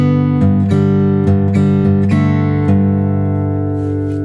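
Acoustic guitar plays the opening bar of a song, a thumb-picked bass note and plucked strings ringing together in a short, close fingerpicked phrase that sustains and fades at the end.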